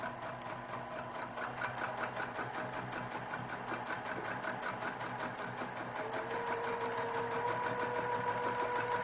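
A sewing machine runs fast and steady while free-motion quilting, its needle hammering in an even rapid rhythm close by, with a faint hum underneath and a slight rise in loudness toward the end.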